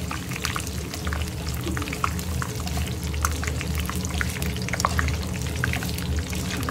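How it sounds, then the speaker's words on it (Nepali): Curry leaves frying in fresh hot oil for a beaten rice snack give a steady, dense crackling sizzle with scattered pops throughout, loud and close with no voices. "फ्रेस तेल बसाएको छु, अब यसमा करी पत्ता फ्राई गर्छु"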